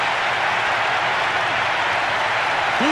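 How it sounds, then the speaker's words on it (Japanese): A packed stadium crowd in the Winning Eleven J League football game on PS1/PS2 roars steadily after Grampus score the opening goal, a dense, continuous wash of cheering and applause that holds at full volume throughout. "スタジアム中が大歓声で揺れています。"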